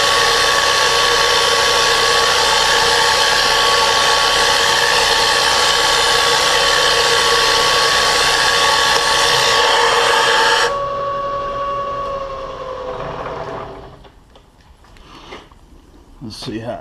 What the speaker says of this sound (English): the drill looks good. And I got my first hole.